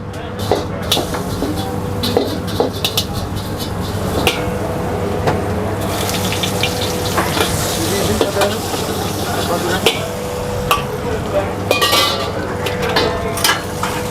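Fried rice and fried noodles being stir-fried in a busy food stall kitchen on a Saturday night, with steady sizzling, scraping and clanking of a pan and utensils, plus occasional dish clatter and background talk.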